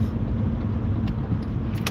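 A truck drives past on a road, a steady low engine rumble and tire noise close by, with a couple of faint clicks near the end.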